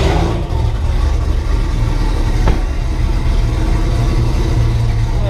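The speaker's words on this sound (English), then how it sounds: "Well, if you guys can hear me over damn Streetcar Joe's car." A loud street car idles and revs nearby in a street setting, its engine rumbling heavily and continuously throughout, with a sharp click partway through.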